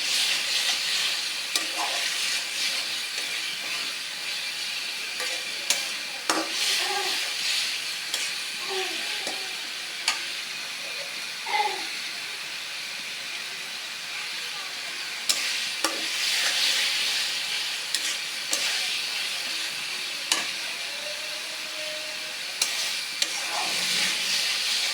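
Radish and spice masala frying in a pan while being stirred, a steady sizzle and hiss with repeated scraping clicks of the spoon, fairly close, with no talk.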